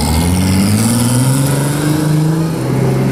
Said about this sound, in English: go straight to wide open throttle